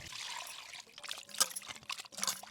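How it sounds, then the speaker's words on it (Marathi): Water pours and splashes in a basin as raw mutton is rinsed by hand, with dribbling and sloshing, close and fairly soft. "आता एक पाण्याने धुतले, आता दुसऱ्या पाण्याने"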